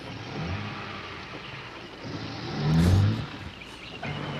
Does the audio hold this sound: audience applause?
no